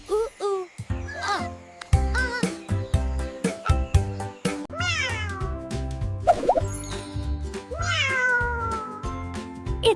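A cat gives a series of rising and falling meows, some drawn out and some short, close and clear, with light background sounds between the calls.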